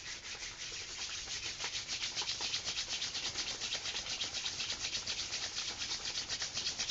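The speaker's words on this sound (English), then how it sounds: "Join the hands and rub the palms briskly." Palms rubbed briskly together, a steady rapid swishing friction repeating evenly throughout, close and fairly loud with no voices.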